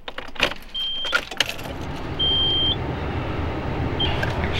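An older Nissan Laurel car that has sat unused, with chiming warning beeps and clicks and a brief whirring starter before a low engine rumble settles in.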